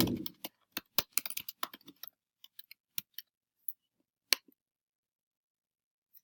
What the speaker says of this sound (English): I am just going to type in ecological footprint.